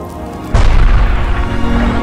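A sudden deep boom of a cartoon head exploding in a Skibidi Toilet episode bursts in after a half-second of quiet, then rumbles on loudly with a low, rolling tail.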